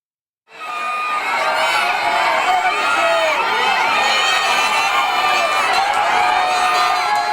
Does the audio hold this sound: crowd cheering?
yes